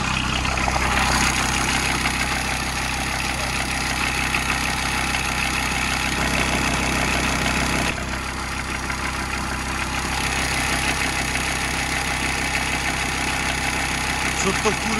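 VW Transporter T4 engine idling steadily while the drive belt is checked, a continuous close rumble with a brief dip partway through, and a voice speaking over it.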